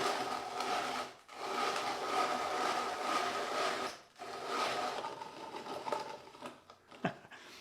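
Peanuts being ground in a Geedel rotary cheese grater, a close, quiet rasping churn in two long bursts with a short pause between, ending in a sharp click.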